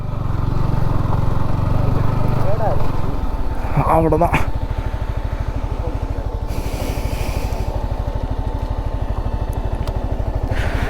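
A motorcycle engine idles close up while the bike is parked at a hilltop viewpoint, putting out a steady, rapid low thudding after a brief throttle blip, with people talking over it.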